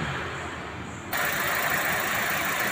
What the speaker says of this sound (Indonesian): nanti saya akan hidupkan mesin